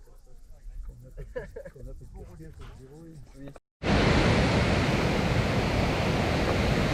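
A mountain waterfall in the Écrins rushes loud and close, a dense broadband roar that cuts in abruptly after several seconds of people talking outdoors.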